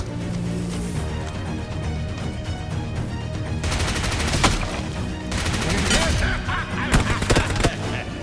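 Rapid automatic gunfire bursts in the mobile battle royale game PUBG Mobile, loud and dense, layered over game sound effects with sharp cracks toward the end.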